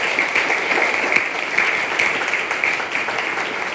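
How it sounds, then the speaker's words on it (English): A church congregation applauds during an Episcopal worship service, a steady, even wash of clapping from many hands that holds at the same level throughout. "let's give them a round of applause for their stick-to-itiveness"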